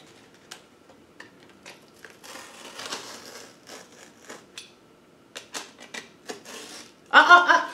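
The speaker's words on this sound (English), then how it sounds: "We're cutting our inside box." Scissors cut through the inner cardboard box of a butterfly rearing kit, making faint scattered snips and scraping crinkles that end in a louder rustling burst, with people talking quietly throughout.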